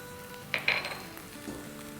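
Garlic paste hits hot oil with golden fried onions, giving a brief, close sizzle with a couple of spoon-on-pan clinks and no talking.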